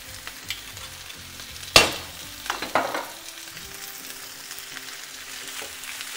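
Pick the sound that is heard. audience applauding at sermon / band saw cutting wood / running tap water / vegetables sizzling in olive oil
vegetables sizzling in olive oil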